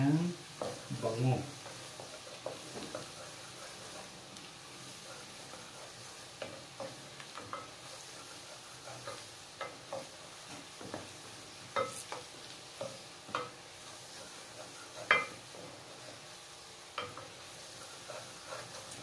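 Garlic for garlic butter shrimp frying in a pan, a quiet steady sizzle broken by scattered stirring clicks and scrapes, with a voice talking faintly at the start.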